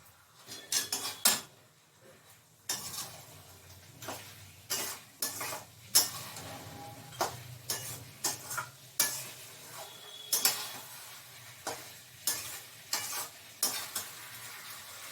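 Mutton being stirred and fried in oil in a pot, a spoon scraping and clanking against the metal in an irregular rhythm over a low, steady sizzle, close and alone.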